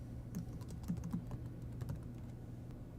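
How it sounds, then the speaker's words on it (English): Fingers type a short comment on a computer keyboard, a quiet, close run of light irregular key clicks lasting a few seconds over a faint room hum. "We can type whatever we want here."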